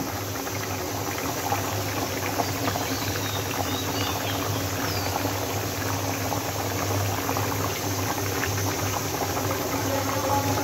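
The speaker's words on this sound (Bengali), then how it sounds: "বলক করতেছে এরা মাংস।" Chicken meat boils vigorously in a pot on a stove turned to full flame, a continuous bubbling simmer with a steady low burner hum underneath, close and even throughout.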